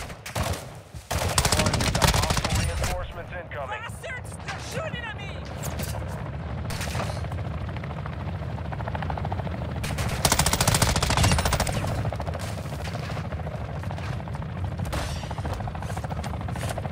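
Bursts of rapid machine gun fire from Call of Duty: Modern Warfare II Warzone 2.0 DMZ dominate, loud and repeated, with a person talking over the shooting.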